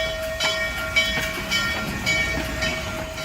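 The N&W 611 steam locomotive rolls into a station, a steady rumbling train with soft rhythmic clanks and a faint sustained tonal whine, moderate in level and without voices.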